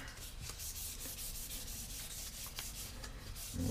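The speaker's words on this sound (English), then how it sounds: "that's really polishing it up now" Fine 1000-grit sandpaper rubs against a spoon in quick, rhythmic back-and-forth strokes, a soft close scratching that repeats without any voice.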